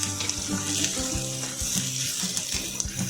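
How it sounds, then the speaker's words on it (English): Onions frying in a pan for a dry peanut potato dish, giving a steady close sizzle with occasional knocks and stirring clatter throughout. "Move the onion around the pan so the edges do not burn while the center stay raw."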